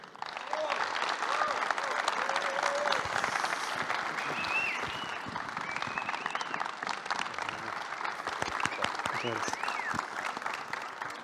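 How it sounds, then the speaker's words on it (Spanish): A conference audience at Ekoparty 2022, a hacker event, applauds for a speaker, a dense, steady roar of clapping at close range throughout, with a few shouts and voices rising through it. "Quiero un fuerte aplauso para Mariano Núñez Di Croce."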